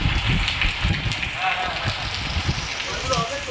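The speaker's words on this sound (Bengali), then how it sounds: "খুব বৃষ্টি হচ্ছে বাইরে" Heavy rain falling outside a hotel in the seaside town of Digha, a steady dense patter with soft low thuds throughout, heard from indoors with some background human sound mixed in.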